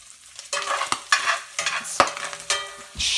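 Canned bacon over five years old sizzles and spits in a pan and is stirred, close and loud, with bursts of crackle broken up by sharp utensil knocks against the pan and no voices.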